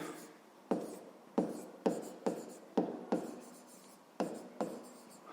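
A number being handwritten during a fifth-grade math exercise: about nine sharp, scratchy strokes in an uneven rhythm, close and clear, with no talking.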